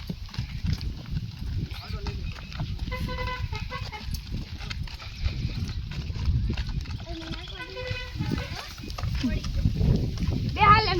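A mare is ridden on loose reins, her hooves clip-clopping steadily throughout, with roosters crowing and people talking nearby.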